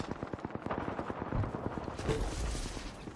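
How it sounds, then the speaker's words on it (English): Rapid automatic gunfire in a shooter video game, a dense run of sharp repeated shots under a busy layered game soundtrack, loud and steady throughout. "Taking fire."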